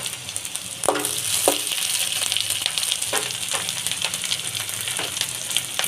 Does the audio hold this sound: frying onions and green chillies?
yes